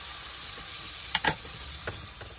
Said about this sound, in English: holding it up so I can cook the sides of the steak